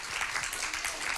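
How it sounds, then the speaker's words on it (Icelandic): An audience at a church service gives a warm round of applause, a steady dense patter of many hands clapping close by without pause. "Hvernig var að gefa þessum snillingum gott klapp?"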